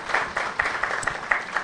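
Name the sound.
audience applause for presenters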